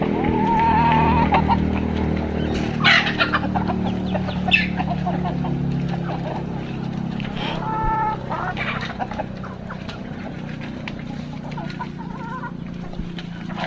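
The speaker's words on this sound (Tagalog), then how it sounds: "Yan mga sisiw ng pabo natin." Turkey chicks cheep and peep repeatedly over a low rumbling background, with scattered clucks and chirps close by.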